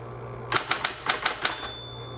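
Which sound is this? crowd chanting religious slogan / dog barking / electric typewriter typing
electric typewriter typing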